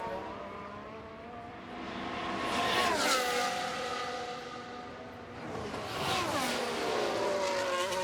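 Simulated onboard sound of a McLaren F1 car on a flying lap in the F1 Manager 23 game, a steady high engine whine rising and falling through gear changes, with no talk over it.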